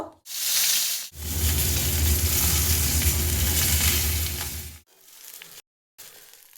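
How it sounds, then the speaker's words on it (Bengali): Fish head, rubbed with salt and turmeric, sizzles loudly in hot oil in a kadai, a steady dense crackle lasting about four seconds before cutting off into quieter kitchen clatter and brief pauses. "মাছের মাথা ভেজে নেব"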